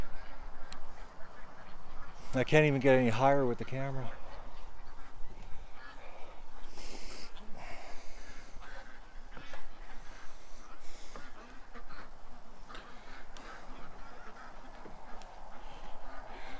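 Ducks quack in a loud, dense burst of repeated calls early on, then go quiet while a person talks nearby against steady outdoor background noise.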